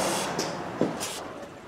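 Penetrating oil sprayed from an aerosol can onto the A/C line bolts of a Jeep Renegade, a steady close hiss lasting the whole moment with a few faint knocks and brief bursts along the way.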